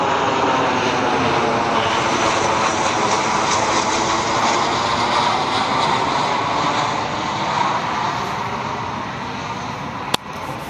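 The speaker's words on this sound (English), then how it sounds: "Another airplane." An airplane flies overhead, a loud, steady broadband engine roar that fills the whole stretch and fades only slightly toward the end, with a brief sharp click near the close.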